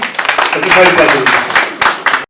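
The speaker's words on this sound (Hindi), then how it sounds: "एक बार फिर सर के लिए जोरदार तालियां।" An audience at the Stars of Kashmir event in Srinagar breaks into loud, uneven clapping in surging bursts, while a voice speaks over the applause before it stops short.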